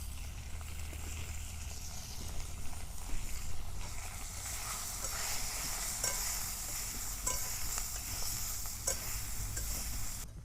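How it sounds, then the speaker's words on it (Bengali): Minced chicken stir-fries in a hot pan with a steady sizzle and spatula scraping and stirring, close and continuous, with no talking. "চিকেন কিমাটাকে সুন্দর কষিয়ে নিয়েছি।"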